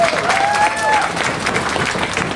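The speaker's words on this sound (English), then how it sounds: "Please give him a round of applause." Crowd applause at Mud Bug Madness 2012, steady and loud dense clapping that fills the whole short stretch with a voice rising briefly above it.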